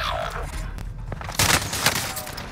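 Distant bursts of gunfire in Call of Duty Warzone on Rebirth Island, a few sharp cracks scattered over a steady game background.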